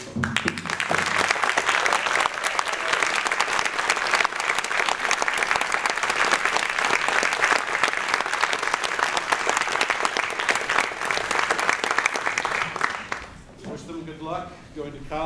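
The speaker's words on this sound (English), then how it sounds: "Let's give them a round of applause." Audience at a youth orchestra spring concert applauds graduating seniors with steady, dense clapping for about thirteen seconds, then it fades as a voice begins speaking.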